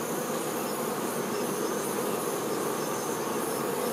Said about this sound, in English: This acrobatic-like behavior by the honeybees occurs when they build their hive.